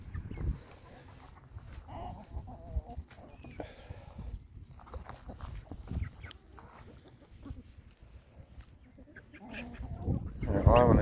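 Chickens cluck softly and intermittently inside a coop in late winter, with occasional shuffling and clip-clop-like movement around them, all fairly faint and close, and no voices heard.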